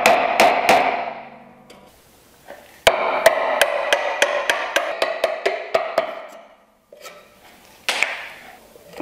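A chisel chopping a mortise in wood for a bridle joint, a series of sharp mallet-driven strikes: a quick cluster, a pause, then a steady run of about a dozen evenly spaced knocks, and one more burst near the end.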